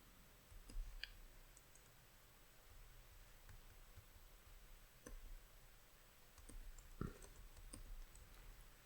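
Soft, sparse clicks come from typing on a non-standard computer keyboard, with a few sharper keypresses scattered over a faint background hiss, close and quiet, with no talk.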